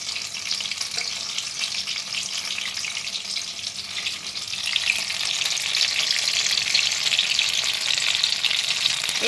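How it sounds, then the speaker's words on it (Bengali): Paneer pasanda pieces sizzle steadily in hot oil in a kadai, a continuous loud frying hiss that swells a little louder partway through, with no talking. "আমি তেলের মধ্যে ছেড়ে দেবো। আমি কড়া বসিয়ে তেল গরম করতে দিয়ে দিয়েছিলাম।"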